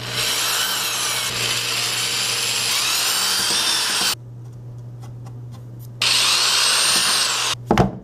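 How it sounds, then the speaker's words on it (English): A power drill whirs in long bursts, drilling air holes in the bottom of a bench power supply enclosure, stopping briefly between holes, with grinding bit noise close by. "So let's go ahead and drill some air holes in the bottom."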